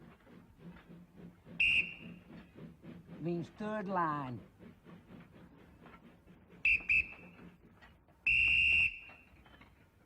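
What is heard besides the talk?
shunter's whistle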